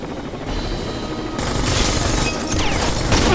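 Combat helicopter in the shooter game Rainbow Six Vegas 2, a loud broadband rotor roar that swells midway, mixed with bursts of gunfire and rumbling battle noise.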